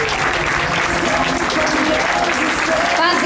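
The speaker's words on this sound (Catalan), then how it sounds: "Un fort aplaudiment." Loud sustained audience applause at a Catalan pubillatge proclamation ceremony in Navàs, a dense wall of clapping with crowd murmur and a few faint voices underneath.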